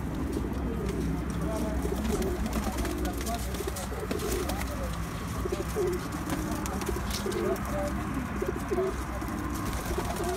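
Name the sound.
pigeons cooing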